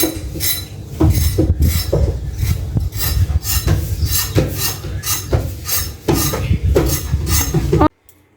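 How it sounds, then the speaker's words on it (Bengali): A knife chops pointed gourds (potol) on a board, loud close rhythmic clicks and knocks repeating about every half second, with faint scraping between strokes, ending abruptly. "আমি আস্তে আস্তে পটলগুলো কেটে নিতে আসছি"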